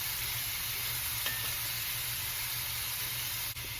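Ground beef browns in a pan with a constant, fairly faint sizzle and hiss that stays even throughout, with a tiny click or two and no voices.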